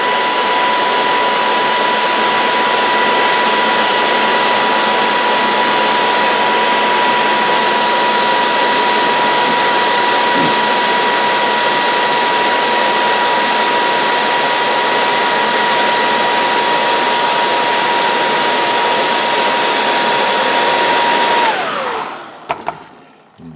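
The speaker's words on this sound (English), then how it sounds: "So again, with my hair" A hair dryer blows loudly and steadily with a constant whine for about twenty seconds, then winds down and cuts off.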